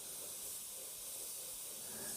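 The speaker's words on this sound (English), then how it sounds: "just spraying on the test panel" A spray gun lays thinned paint onto a test panel in one steady, close, continuous hiss that holds at the same level throughout with no talk.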